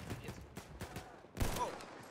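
Faint, distant bursts of video game gunfire, with a stronger crack near the middle, sit low in the mix amid background game noise.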